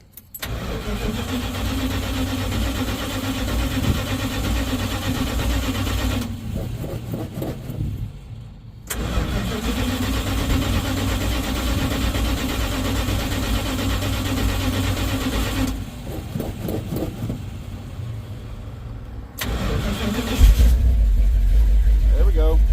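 A car engine freshly fitted with an Edelbrock AVS2 carburetor cranks steadily, stalls briefly, cranks again and catches, settling into a loud close idle with a rise in revs at the end.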